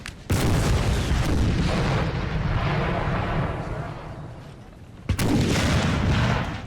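Counter-battery artillery fire in Napoleon: Total War, during a French raid on a Spanish encampment. A heavy cannon boom opens into a long, rolling rumble of gunfire that fades, then a second sharp blast lands near the end.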